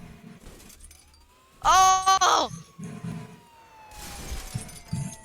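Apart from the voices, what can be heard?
car crashing into a police car in the Roblox video game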